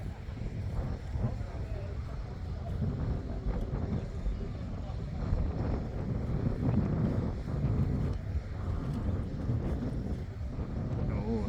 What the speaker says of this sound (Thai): ลมแรงมากครับ นี่นะ เมืองบุรีรัมย์ลมแรงครับ